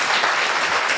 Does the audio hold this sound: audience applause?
yes